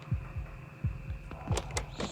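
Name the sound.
heartbeat in a video game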